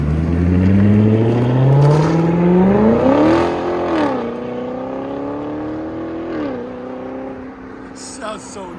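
A 2015 Chevrolet Corvette with a 6.2L V8, high-flow cats and a straight pipe drives off, its loud exhaust revving upward through the gears and then settling into a steadier drone as it pulls away.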